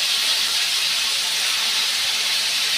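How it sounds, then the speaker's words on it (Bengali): A steady, loud hiss of cauliflower frying in a pan, even and continuous with no pauses or voices. "ফুলকপিটা ভাজতে ভাজতে আস্তে আস্তে এই যে কমে এসেছে।"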